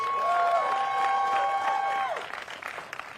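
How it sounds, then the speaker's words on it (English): A crowd applauds Senator Katrina Shealy at a South Carolina governor's race campaign event, a couple of seconds of clapping mixed with a sustained tone, then fading into scattered noise. "Please give her a round of applause"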